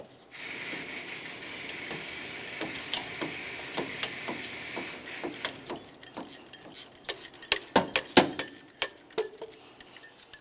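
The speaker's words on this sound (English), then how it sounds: "We'll continue on with a ratchet, and we'll turn this counterclockwise to remove it." A ratchet with a spark plug socket turning counterclockwise to loosen a spark plug on a 1994-2002 Dodge Ram 2500, heard as a faint steady hiss that gives way to a run of sharp, close clicks that grow denser toward the end.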